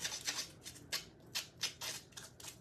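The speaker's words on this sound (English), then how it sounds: "I'm just using the edge of the scissors." The edge of a pair of scissors roughs up the edges of craft paper for a farmhouse-style Christmas bell. About a dozen short, crisp scraping strokes come in an uneven rhythm, close and fairly quiet, with no talk.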